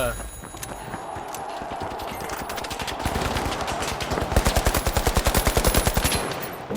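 Rapid automatic gunfire in the shooter game The Finals, with dense overlapping bursts that build into a steady, loud rattle of regular shots toward the end, under a noisy mix of other game sounds.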